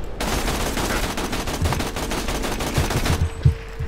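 Rapid machine-gun fire strafing in the video game Borderlands 2, a loud sustained burst of close shots that stops abruptly near the end, followed by a single thump.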